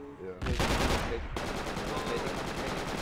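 Rapid bursts of gunfire from the Project Reality military shooter, close and loud, with sustained automatic shots under a voice briefly calling out.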